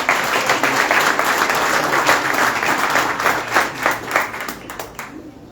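Audience clapping at a Chanukah event in Richmond, BC: dense, steady applause from a crowd that holds strong for several seconds, then thins into scattered claps before fading out.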